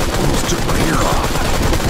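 Sustained automatic gunfire in the Modern Combat 5 shooter game, loud and continuous rattling bursts filling the whole moment with no pause.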